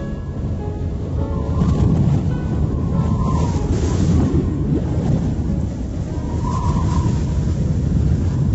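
Freezing wind roars steadily where penguins huddle, a loud continuous rumble with gusting surges throughout.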